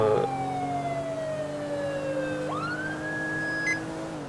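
A police car siren in GTA 5 on a code 3 response wails loud and steady, its pitch sliding slowly down and then sweeping sharply back up, with a low engine drone underneath throughout.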